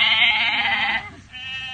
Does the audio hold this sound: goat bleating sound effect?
yes